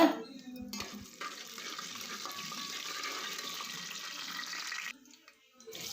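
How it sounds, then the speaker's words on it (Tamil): Cashews, cumin and black pepper fry in a pan for Tamil ven pongal, giving a steady close sizzle that starts abruptly, holds for about four seconds, then cuts off. "முந்திரி சீரகம் மிளகு வந்து நல்லா ப்ரௌனிஷாக ஃப்ரை ஆகணும்"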